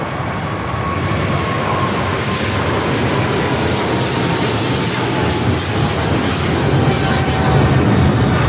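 A jet airliner coming in to land on runway 25 left at LAX produces a loud, sustained roar and rumble that builds slightly toward the end, with a faint whining tone, heard alone.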